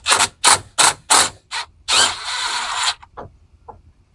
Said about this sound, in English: Let's take off the caliper pins. They're 14 mil.